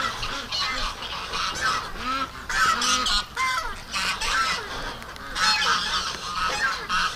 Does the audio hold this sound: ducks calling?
yes